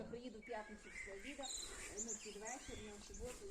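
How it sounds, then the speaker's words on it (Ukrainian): Birds chirp and twitter in several short overlapping calls in a village in Ternopil region, Ukraine, in mid-April, with insects trilling and a low background hum, moderately faint. "пташки співають"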